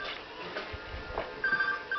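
A mobile phone rings in a home, a faint electronic tone that comes in over quiet room noise near the end of the short stretch, with no talking.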